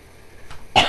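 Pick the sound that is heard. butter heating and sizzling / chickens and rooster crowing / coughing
coughing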